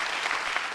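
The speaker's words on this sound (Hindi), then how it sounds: "जोरदार तालियां बजाएंगे" A seminar audience applauds, a brief, fairly faint wash of many hands clapping together without pause.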